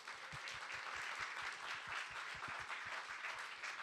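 Crowd applause for the judges at the MIT 100K Accelerate 2025 event, a quick, fairly even run of individual claps standing out over a wash of hall clapping, heard at a moderate distance and fairly faint.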